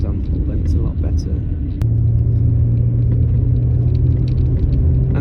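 Rover 75 V6 automatic car driving around town, heard from inside the cabin as a steady low engine and road rumble with a faint whine, continuous and fairly loud.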